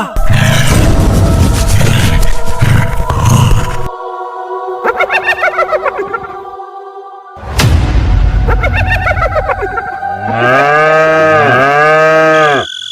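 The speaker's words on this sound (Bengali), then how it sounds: "গোয়ালে গরুগুলো এমন চিল্লাচ্ছে কেন বলো তো?" Cows in a cowshed moo loudly and close, several long drawn-out calls with harmonic bellows, separated by brief pauses and overlapping lower grunting.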